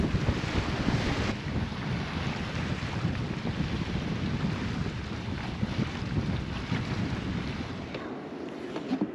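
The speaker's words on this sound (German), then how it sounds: "Da ist dann zwar Wind, aber es sind keine Wellen." Wind blowing across a sailboat anchored off Amanu atoll in French Polynesia, a continuous loud broadband rush with gusty buffeting against the microphone and no voices.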